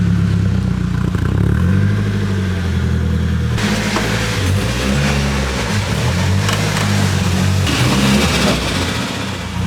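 Turbocharged SR20DE engine in a Nissan Silvia running on a dyno, a loud droning idle with strong low harmonics that jumps into a harsher, rougher rev partway through and stays busy to the end, no talking.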